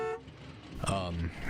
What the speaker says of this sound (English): Could you honk your horn for me?